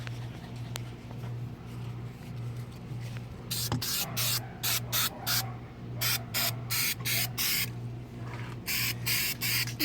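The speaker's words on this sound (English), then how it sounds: "And I'm gonna shoot it with this right here, which is a graffiti remover." Graffiti remover sprayed from an aerosol can onto a wheel rim, heard as a series of sharp hissing bursts in short regular pulses, close and fairly loud over a steady low electrical hum.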